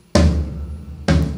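A church drum kit's kick drum, tuned too high, strikes twice about a second apart. Each hit is loud and close, with a boomy thump and a short ringing tail.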